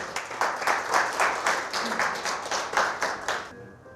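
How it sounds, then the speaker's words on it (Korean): An audience claps for a volunteer called up from the back of a lecture hall, a brisk run of dense hand claps lasting a few seconds before cutting off sharply. "용감한 분에게 박수를 좀 보내주십시오."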